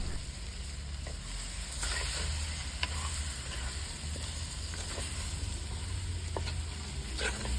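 Food sizzles and is stirred in a pan just after crushed black pepper goes in, a soft continuous frying hiss broken by scattered scraping clicks from the spoon.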